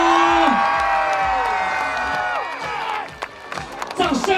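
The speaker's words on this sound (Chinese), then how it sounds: "英雄式的尖叫" An audience at a folk arts troupe's carnival show in a theme park cheers and screams loudly, bursts of shouts and whoops over clapping, with a host's voice mixed in.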